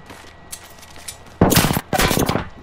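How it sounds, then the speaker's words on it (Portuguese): Automatic weapon fire in Apex Legends crackles in two loud rapid bursts, each lasting about half a second, after a quieter stretch with faint distant shots. "I'm getting shot."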